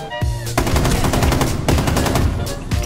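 Gunfire in the Rainbow Six Siege video game, loud rapid automatic bursts of shots that nearly fill the few seconds, with brief gaps between volleys.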